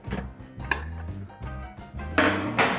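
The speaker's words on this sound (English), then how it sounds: "Here I need to keep 3 plates in triangle shape." Ceramic plates are set down on a table one after another, each placement a clear clink or knock spaced at an unhurried rhythm, close by and without talk.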